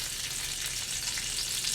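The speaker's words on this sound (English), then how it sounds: "So you want to let it kind of sizzle and simmer in that oil" Green beans blistering in hot olive oil in a pan, a dense, steady, bright crackling sizzle close up, continuous with no voices.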